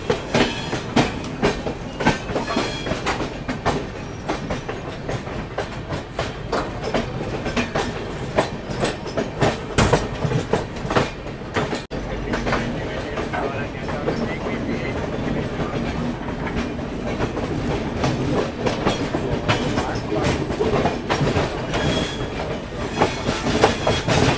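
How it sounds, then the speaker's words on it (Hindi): The Tamil Nadu Express pulls out of Itarsi Junction beside the Karnataka Express, heard from inside a 3AC coach as loud continuous rumble and rhythmic clickety-clack of wheels over the rails. "यहाँ अभी पैरेलल डिपार्चर हो रहा है कर्नाटका एक्सप्रेस के साथ"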